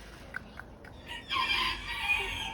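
A grown pet chicken, raised by hand from a chick, lets out a few short clucks, then a louder, sustained crowing call close by with no talk over it.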